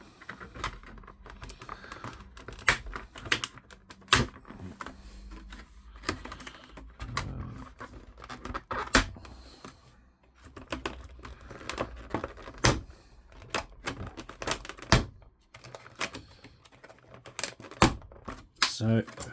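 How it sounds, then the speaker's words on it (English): Plastic cable ties are snipped and pulled free from Doctor Who toy packaging, giving irregular close clicks, snaps and crinkles of plastic scattered throughout, with a voice talking quietly at points. "We just need to get rid of these plastic cable ties."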